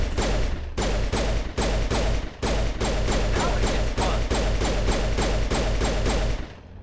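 Rapid gunfire in the Mass Effect video game as a character shoots at an antenna: loud, dense bursts of shots repeating in quick succession for several seconds, then cutting off.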